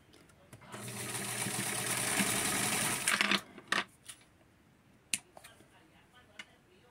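A sewing machine runs steadily through fabric for about three seconds while stitching a Francie mini checks garment. It stops, and a few sharp clicks and taps follow.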